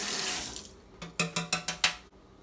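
Water runs from a tap while a dowel stick is wetted before being wrapped in fondant, a hiss that fades, followed by a quick series of about six splashy bursts.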